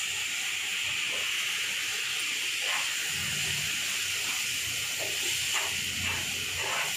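Milk poured into a hot pan while making besan modak gives a steady sizzling hiss throughout, with soft bubbling pops and low clattering over a constant background hum.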